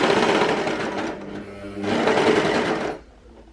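A sewing machine stitching a knit sweater dress, two loud, close whirring bursts with a short pause between them, then it stops.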